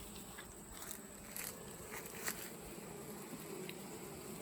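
A steady, close swarm-like hum of honeybees fills a beehive inspection, with a few louder passes of single bees near the listener.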